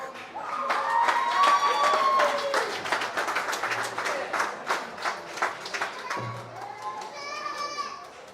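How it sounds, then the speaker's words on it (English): At a high school homecoming coach's show, a crowd claps and cheers for the head coach, with children's excited voices and shouts mixed into the noisy, lively applause that thins toward the end. "Everybody with a big round of applause."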